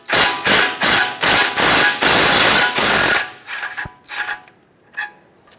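Ratchet wrench with a 10mm socket clicks in rapid, loud bursts, about seven close strokes, while removing the ABS sensor bolt from the steering knuckle of a Ford E-350 van, followed by a few lighter metallic clinks.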